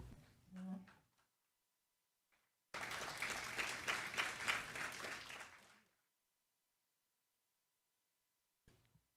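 Audience applause breaks out at a public environmental hearing in Quebec, a dense burst of clapping lasting about three seconds. Brief talk comes before it and a faint sound follows.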